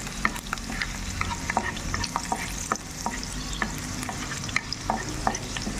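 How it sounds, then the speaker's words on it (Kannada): Garlic fries in a pan and is stirred with a utensil, a steady close sizzle broken by frequent scraping knocks against the metal, with no talking. "ಮತ್ತು ಬೆಳ್ಳುಳ್ಳಿಯನ್ನು ಚೆನ್ನಾಗಿ ಫ್ರೈ ಮಾಡಿಕೊಳ್ಳಬೇಕು"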